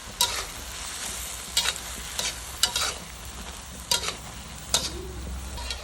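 Frog and holy basil stir-fry in a hot pan, a continuous soft sizzle broken by repeated scraping strokes of the spatula at an uneven rhythm, close and moderately loud, no voices.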